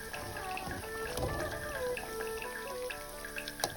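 Green peas vadai patties dropped into hot oil, frying with a steady crackling bubble and scattered pops, close by and fairly quiet, with no talk.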